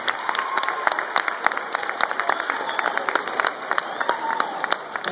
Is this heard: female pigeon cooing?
no